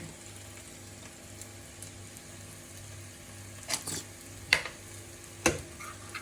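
Vegetables and sauce stirred in a hot pan for Chinese-style noodles, with a soft steady sizzle and a few sharp scraping clinks of the utensil near the end.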